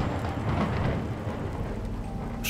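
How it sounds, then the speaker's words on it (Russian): A thunder strike rumbles in the video game Bad Dream Coma, a dense low roar with rain-like hiss that holds steady for a couple of seconds, loud and close, with no talking. "Тронь монетку. Получишь молнию."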